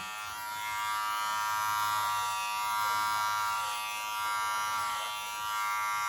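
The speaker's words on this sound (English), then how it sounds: "I'm going to show you the other way, which is working clipper over comb. I'm actually going to go in now." Electric hair clippers buzz steadily and close up while cutting a man's hair clipper-over-comb for a grade 2 back and sides, a continuous hum with slight swells as the blades move through the hair.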